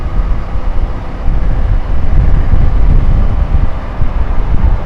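Heavy, loud wind buffets a motorcycle helmet with the visor up, a dense low roar that swells after the first second.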